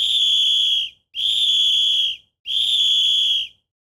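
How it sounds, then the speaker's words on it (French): Three long, shrill work whistle blasts on the Eiffel Tower construction site in 1888, each about a second, evenly spaced with short gaps, piercing and close. "Ces coups de sifflet rythment le travail."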